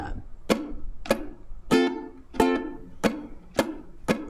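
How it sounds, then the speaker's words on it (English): A ukulele at a live club session is strummed in a steady rhythm of alternating down and up strums, seven or so crisp bright strokes spaced evenly, each ringing briefly, close and moderately loud with no speech. "So the down strum of 2 and an up strum of 2."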